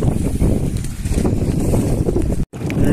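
Strong wind buffets the microphone in a constant roar, with water and boat noise churning underneath; a brief dropout near the end.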